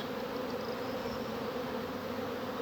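Honeybees at an open beehive give off a dense, steady close-up buzzing drone, uninterrupted and with no talking.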